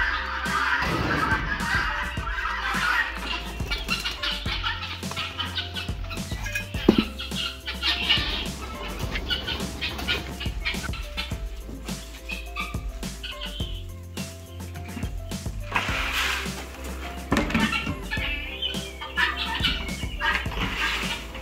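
Star Chickens cluck and squawk in bursts, mixed with other bird calls and a watery splashing background, moderately loud with no speech over them.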